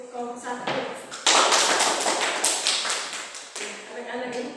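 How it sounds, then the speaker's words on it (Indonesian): A classroom applauds a student group with a burst of many hands clapping that starts abruptly, holds steady and fades, and voices are heard just before and after it. "berikan aplaus untuk kelompok 1"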